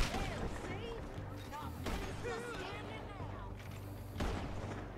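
Gunfire in Red Dead Redemption 2 during a horse-stealing mission comes as a few spaced, sharp shots over a busy game mix, with excited talking heard throughout.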